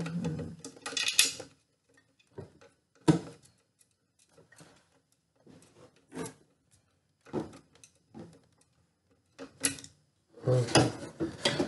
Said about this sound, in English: We are unscrewing these screws.